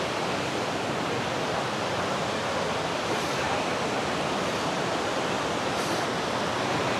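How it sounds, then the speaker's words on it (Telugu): A powerful waterfall with a very strong flow at Valparai roars as steady, dense broadband rushing that stays loud and unbroken throughout, with no voices over it. "ఇదే వాటర్ ఫాల్స్. అసలు ఎలా ఉంది చూడండి ఫ్లో వాటర్ది."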